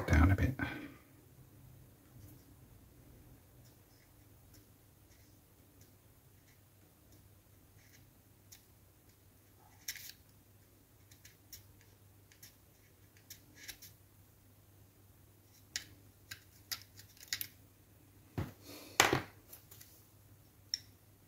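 Snips and clicks of cutting tools trimming a part from an old Airfix 1/72 P-38 Lightning plastic model kit, a few sparse cuts early on then a cluster of sharper clicks near the end, close up with talk over them.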